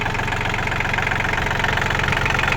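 A Yanmar 39-horsepower tractor in tidy, ready-to-use condition runs close by. Its engine gives a loud, steady idle with a rhythmic knocking chug that continues unbroken, and no voices are heard.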